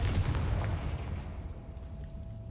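A Confringo explosive spell blast in the video game Hogwarts Legacy: a loud, deep booming burst that rumbles and then fades away over about two seconds.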